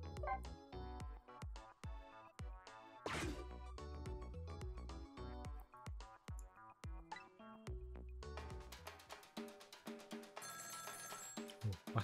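A telephone rings inside the Nintendo Switch video game Ghost Trick Phantom Detective, with repeated bright tonal trills over the game's melodic music, quiet throughout.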